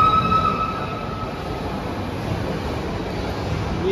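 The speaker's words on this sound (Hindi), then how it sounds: "ये छुक छुक वाली ट्रेन आई" A small toy ride train passes inside a busy shopping mall, a steady rumbling roll with a brief high squeal, set against a broad indoor crowd hum.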